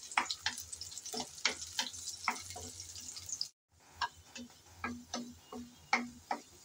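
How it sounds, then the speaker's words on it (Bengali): Garlic and dried red chilies frying in hot oil, giving sharp intermittent crackles and pops over a low sizzle, briefly cut off midway before the spattering resumes. "রসুন আর মরিচ আমি লাল করে ভেজে নিয়েছি।"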